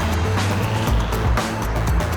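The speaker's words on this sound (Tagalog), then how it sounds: "Ito yung muffler, oh." A four-wheel vehicle being prepared for an endurance event idles through its aftermarket muffler, a loud, steady low rumble with a few brief revs, heard close and without talk.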